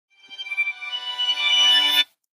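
A bright electronic WhatsApp notification ringtone on an Android phone plays alone, a rising melodic trill that swells louder before cutting off abruptly.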